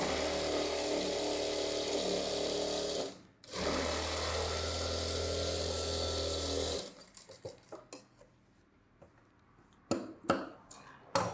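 An electric sewing machine stitches the edge of a saree blouse lining with a steady, close whirring hum. The hum breaks briefly once, resumes, then stops and leaves faint scattered clicks and taps.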